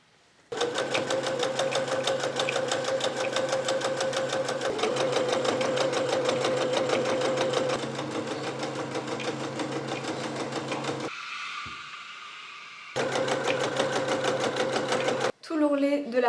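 A sewing machine stitches the hem of a dress skirt with a fast, steady mechanical whir. It runs continuously for several seconds, pauses briefly, then starts again with the same even motor rhythm.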